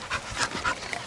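A young dog, recently out of six months of quarantine, pants in quick rhythmic breaths, close but fairly soft, with no voices over it.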